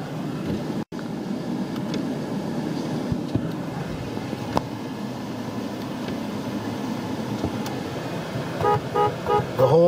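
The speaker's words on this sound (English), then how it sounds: "Horn works, as you can see." A 2015 Toyota Tacoma pickup truck sounds its horn in a few short honks near the end, after a stretch of quiet idling background noise.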